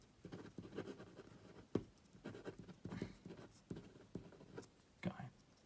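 Pen scratches across paper while writing a note by hand, a close, quiet series of short scratching strokes in an irregular rhythm with soft pauses between.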